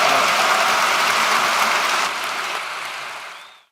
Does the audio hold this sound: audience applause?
yes